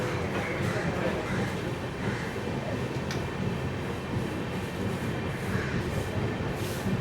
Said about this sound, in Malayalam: വണ്ടി പതുക്കെ കായംകുളം ജംഗ്ഷൻ സ്കിപ്പ് ചെയ്യുകയാണ്.